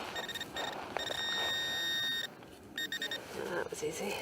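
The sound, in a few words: Garrett ProPointer AT metal detector pinpointer beeping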